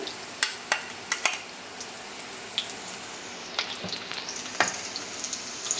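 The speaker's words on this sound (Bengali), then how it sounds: "পেঁয়াজটা লাল করে ভেজে নিয়েছি, এখন এক এক করে দিয়ে দিব যে মশলাগুলো আমি বেটে রেখেছিলাম" Onions browned in a pan with ground spice pastes added, for a Bengali chepa shutki dried fish recipe, giving a steady soft sizzle with scattered sharp crackles and spatters close by, no talking.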